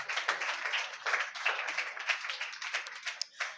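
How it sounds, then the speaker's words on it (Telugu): A church congregation at an anniversary service claps hands in steady, dense applause that runs the whole time, with voices mixed in beneath the clapping. "చప్పట్లు కొట్టి దేవునికి స్తోత్రాలు చెల్లించుదాం"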